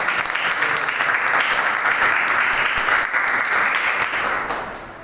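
Loud, sustained applause from a church congregation fills the space with dense, steady clapping that tapers slightly at the end.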